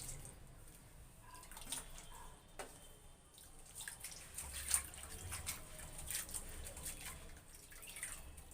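Ridge gourd peel is rinsed in salt water in a kitchen, giving quiet, sparse splashes and drips with a soft swish of water, faint and close with no talking.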